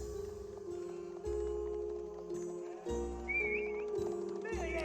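Scout's horse moving about in Age of Empires 4, with hoof clip-clops and a whinny amid game sounds and talk over it, steady and close.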